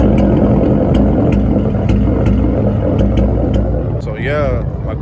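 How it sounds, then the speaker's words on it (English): A bolt-on E85 5.0 V8 car engine misfires while running, its steady loud rumble broken by irregular pops at close range, with a voice talking over it near the end. "My car over here misfiring right now."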